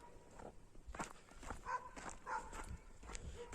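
Dogs on a mountain pasture at night bark in scattered, fairly distant bursts, with faint footsteps or shuffling in between and a quiet background.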